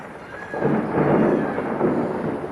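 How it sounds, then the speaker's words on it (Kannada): Heavy rain pours down while a deep rumble of thunder swells and rolls through, loud and close, with no voices. "ಮಳೆ ಬಂತು."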